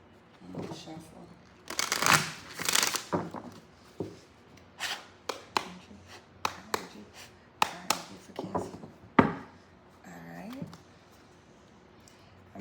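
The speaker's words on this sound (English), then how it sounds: "Shuffle." Playing cards shuffled repeatedly at a tarot reading, a run of sharp riffling bursts and crisp taps in an irregular rhythm, close and fairly loud, with a voice talking faintly between them.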